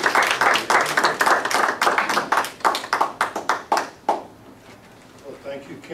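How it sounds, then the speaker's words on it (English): Warm applause and clapping from an audience greeting a speaker introduced at an evening presentation, dense and steady for about four seconds before fading quickly to quiet room tone. "thank you for the applause"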